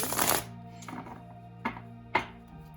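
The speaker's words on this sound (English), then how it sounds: "I'm starting with the Gothmancy Tarot, and I'm going to give it a shuffle to cleanse the energy" A Gothmancy tarot deck being shuffled, a close riffle of cards at the start followed by a few softer sliding and tapping sounds as the cards are squared.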